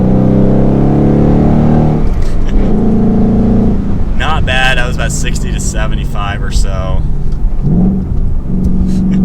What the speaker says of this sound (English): this is probably one of the best V8 sounds out there.